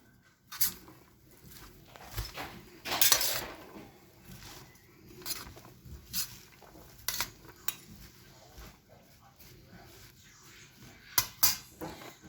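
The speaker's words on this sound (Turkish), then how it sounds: "Bir güzelce hepsini karıştıracağım şimdi." Utensils clink and scrape intermittently against a bowl while a summer salad with purslane is tossed and mixed, with irregular light knocks and soft rustling between them.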